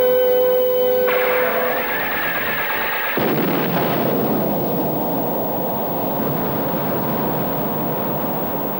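Delta Beam weapon firing in an animated Captain Nemo film: a loud sci-fi charging tone cuts into a heavy, sustained rumbling blast that keeps booming like rolling explosions.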